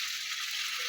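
Milk is poured into vegetables frying in a pan, with green banana and bitter gourd among them, giving a brief steady high hiss of sizzling with no voices.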